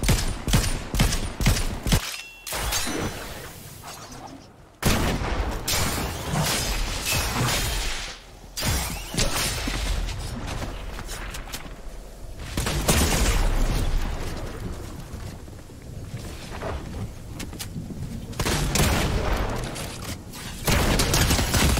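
Gunfire in the Fortnite video game, with bursts of rapid shots and booms that come and go between short lulls, loud and close.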